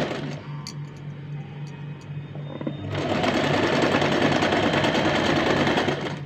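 A sewing machine stitches along folded fabric for a bow, starting up after a quieter stretch and then running in a loud, steady, rapid whir until the end.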